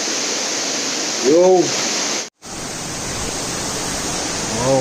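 Rushing water of the Cane River in Jamaica roars as a steady broadband wash, briefly cut off midway, while a man calls out once.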